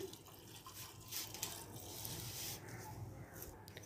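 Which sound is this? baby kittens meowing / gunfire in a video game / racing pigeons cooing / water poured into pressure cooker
water poured into pressure cooker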